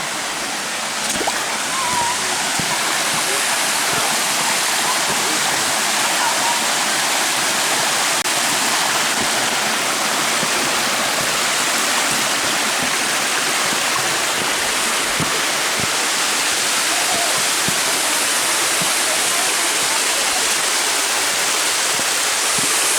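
Eternal Flame Falls in Chestnut Ridge Park roars as a loud, steady, full-bodied rush of falling water that stays constant throughout, with no other sound rising above it.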